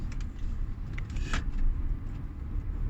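A car driving along a road, captured from a phone mounted in a holder inside the cabin, giving a steady low engine and road rumble with a brief rattle or click partway through.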